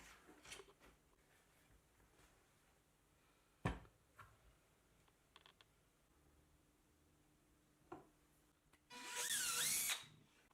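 A power driver sets a screw into a plywood model while a front light is mounted with rubber, with a few short clicks and taps before a loud, whirring burst of driving near the end.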